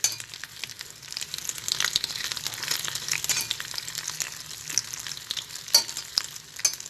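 Chicken lumpia spring rolls frying in oil over low heat, a continuous bright crackling sizzle with irregular pops, close up and moderately quiet, no speech.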